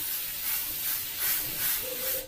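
Airbrush spraying thinned paint through a 0.3 nozzle, a steady close airy hiss with slight pulsing, alone without talk.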